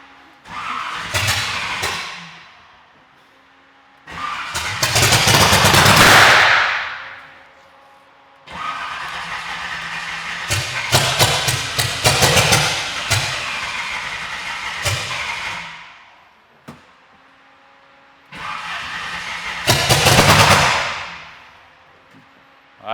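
An 800 hp car engine is cranked and fires in several separate attempts, each roaring loudly up to high revs before dropping away, with quiet gaps between the bursts.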